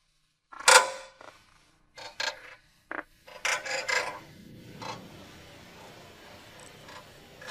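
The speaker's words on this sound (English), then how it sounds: "use a 10mm wrench to remove the mounting bracket bolts for the brake lines on both sides" A 10mm wrench works the brake line mounting bracket bolts on a 2013 Jeep Wrangler JK. It gives short, close creaking and rasping bursts with brief pauses, then a softer scraping tail, with no talk.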